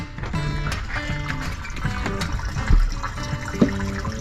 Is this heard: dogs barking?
no